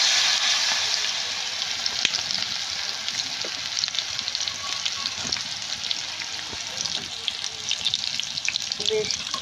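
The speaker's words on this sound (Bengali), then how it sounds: "বেশ তাপ দেওয়া যাবে না, হালকা তাপে ভেজে নিতে হবে।" Potato fries frying in oil over low heat, with a continuous close hiss and crackle and occasional light stirring or scraping knocks.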